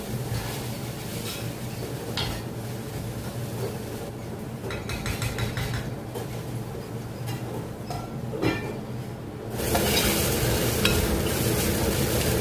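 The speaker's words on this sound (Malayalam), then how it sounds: "തക്കാളിയും ചേർത്ത് ഒന്ന് വഴണ്ടി വരുമ്പോഴത്തേക്കിൽ അതിലേക്ക് നമുക്ക് അര ടീസ്പൂണ് മഞ്ഞൾപ്പൊടി ചേർത്ത് കൊടുക്കാം" Onions and tomatoes sautéing in a pan, a continuous sizzle with intermittent stirring scrapes and faint utensil clinks, becoming louder and brighter for the last few seconds, close up with no voices.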